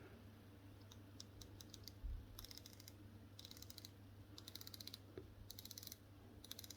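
The bezel of a Seiko 5 Sports SRPD-67K1 wristwatch is turned in short bursts of quick, crisp ratcheting clicks, close and quiet, over a low steady background hum with no talk.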